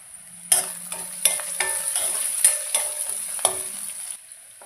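Chopped onions fry in oil in a pan, a loud steady sizzle broken by several sharp scrapes and clanks of a spatula stirring. Nobody speaks.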